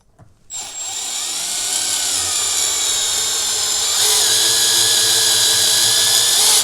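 A Milwaukee M12 4-in-1 driver runs close and loud, whirring steadily as it drives square head screws, its pitch holding for several seconds before stepping up slightly near the end.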